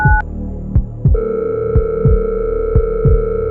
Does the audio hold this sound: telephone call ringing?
yes